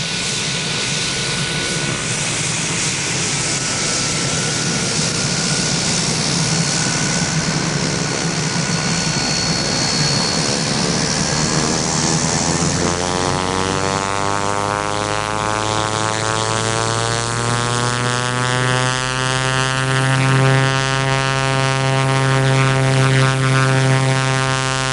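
A PC-9 training aircraft taxis at Laverton, its propeller engine droning loud and steady throughout, with the pitch shifting upward partway through.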